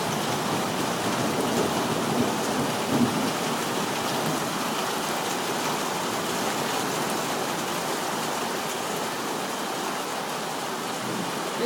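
Heavy rain from a severe thunderstorm with hail, a dense continuous roar of pouring water and pelting on surfaces, loud and steady throughout with no thunder or voices standing out.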